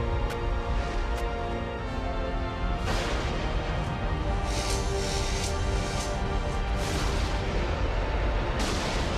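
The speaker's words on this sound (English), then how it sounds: "When you've just emptied both barrels of a shotgun into your favorite bartender" Shotgun blasts from a double-barreled boomstick in the PS2 game Evil Dead: Fistful of Boomstick, booming bursts at about 0.3, 1.2 and 2.9 seconds over a dense, loud game soundscape with continuous rumbling and crashing.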